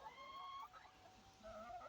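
Chickens cluck and call softly in a coop as the door opens onto 3–4 inches of fresh snow, a few close, broken clucks and drawn-out tonal calls over a quiet background.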